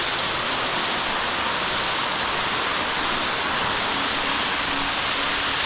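A big jungle waterfall in Bali roars with a constant, dense rush of falling water, loud and close, with no talk over it.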